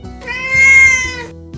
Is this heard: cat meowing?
yes